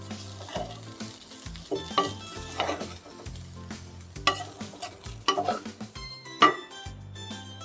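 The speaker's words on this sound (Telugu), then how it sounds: "స్టవ్ ఆఫ్ చేసి బాగా కలుపుకోవాలండి అన్నాన్ని" A spoon stirs vankaya (eggplant) rice in a pan with the stove off, giving repeated scraping strokes and soft clinks against the metal over a faint sizzle, close and irregular, no voices.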